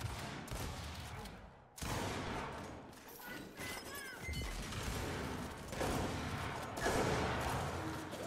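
Gunfire in the video game Gears 5 during a ranked free-for-all match, dense bursts of loud shots and impacts with a long-range sniper rifle among them, steady and busy throughout.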